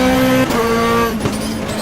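GT2 race car in the rFactor racing game at Suzuka, its engine note held high then dropping sharply as the brakes lock up, with a brief tire squeal amid the steady in-car engine roar.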